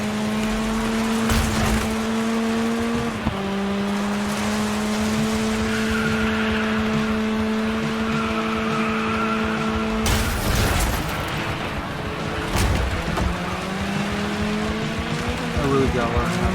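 A racing video game car engine on Stadia hums steadily with long sustained tones that rise and fall through gear changes, with brief bursts of rougher noise, while a person talks over it throughout.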